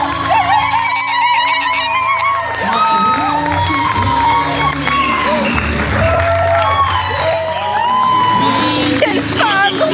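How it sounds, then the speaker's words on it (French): A wedding crowd greets the bride with sustained applause, cheers and whoops, loud and continuous with voices shouting throughout. "sous vos acclamations, on accueille la mariée du jour"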